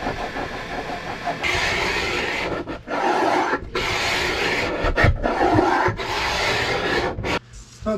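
Sandpaper rubbing over wood on a bulkhead shelf aboard a wooden boat during galley cabinet work: steady, close rasping strokes in long runs broken by brief pauses, with no talk.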